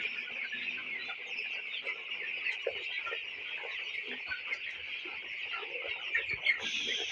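A flock of 17-day-old broiler chickens on a poultry farm gives off a steady, dense chorus of clucks and chirps that holds for the whole stretch with no pauses and no talk.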